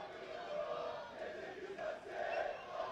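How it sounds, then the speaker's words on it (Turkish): Beşiktaş supporters chant from the stands at a women's football league match against Hakkarigücü, a broad, distant crowd roar rising and falling in waves. "Her zaman olduğu gibi yine susmak bilmeyen tezahüratlarıyla takımın yanındalar yine bugün."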